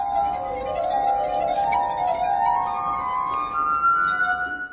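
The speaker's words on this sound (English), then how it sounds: "he found his instrument, the glass harp, which he's been playing for over 20 years." Street performer playing a glass harp: sustained, pure, ringing tones from rubbed glasses that swell and glide between pitches in a continuous, choir-like drone, close and steady with no talking.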